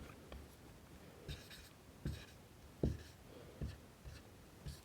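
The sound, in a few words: writing a maths solution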